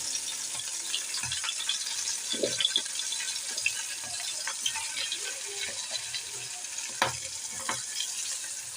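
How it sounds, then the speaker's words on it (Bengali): Chopped onion and shrimp fry in hot oil with a steady, close hiss and crackle, broken by occasional spatters and light stirring. "তারপর তেল গরম হলে আমি এখানে পেঁয়াজ কুচি আর চিংড়ি মাছগুলো দিয়ে হালকা জাম করে নেব"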